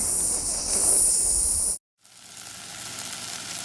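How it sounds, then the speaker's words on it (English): Rice in a pan of hot oil with onion and garlic, stirred, gives a steady close sizzling hiss that cuts out for a moment and then resumes slightly softer. "I then proceeded to add my 1 cup of rice to my pan with the oil, the onion, and the garlic."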